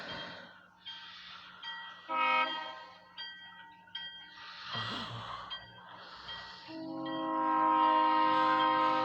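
A very short OC&T flatcar train, its engine draped with a small tarp, rolls past a waiting car near Titusville, Pennsylvania, with sustained horn blasts that swell louder toward the end over rumbling rail noise.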